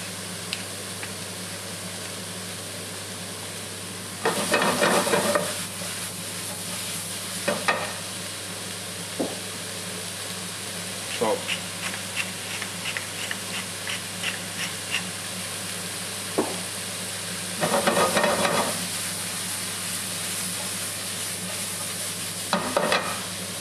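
Mushrooms with oregano, pepper and butter fry in a pan, giving a steady soft sizzle throughout, broken by several bursts of scraping and stirring, with no talking.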